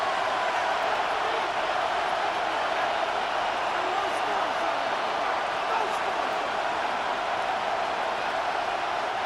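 A stadium crowd roars at Arrowhead Stadium in the Madden 26 football video game, a loud continuous wash of cheering that holds steady from start to finish.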